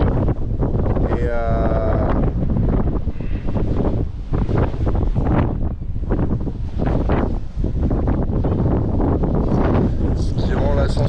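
Strong east wind buffets the microphone on a mountainside goat path on Nuku Hiva in the Marquesas, a loud, continuous roar with gusty swells throughout, and a voice talks over it.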